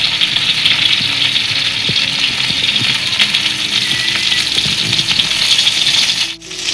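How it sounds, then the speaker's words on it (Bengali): Yogurt is whisked in a bowl in a home kitchen, with quick stirring taps and scrapes over a steady hiss from pointed gourd frying nearby, continuous and close with no talking. "দইটা আমি এই বাটির মধ্যে ঢেলে নিচ্ছি এটা এবার একটু ফেটে নেব"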